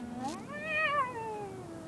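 A cat lets out a single drawn-out caterwaul, rising then falling over about a second and a half, close and clear with no talking.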